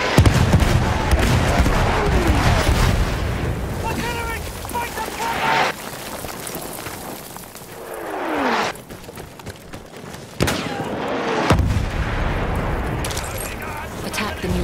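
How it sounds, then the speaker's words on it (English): Artillery barrage in Battlefield 1 during a Rush match, heavy booming blasts and rumbling explosions rolling one after another with whistling incoming shells, loud and dense, with voices calling out over the din. "Wait for the enemy artillery barrage to stop firing."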